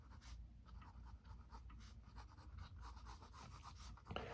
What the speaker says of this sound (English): Let me just start sketching for you.